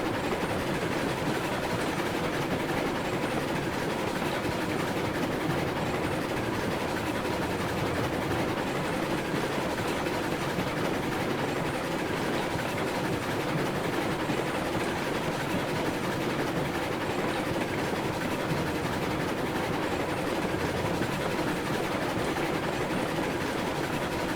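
A steam locomotive from the game Railroads Online runs steadily along the line: a continuous, even rumble and rolling wash of noise, moderately loud and unchanging throughout, with no voices over it.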